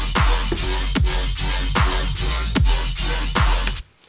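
Synth patch built from a Lamborghini engine sound, played over a drum loop: punchy kicks land about every half second under a dense, gritty growl that stops abruptly near the end.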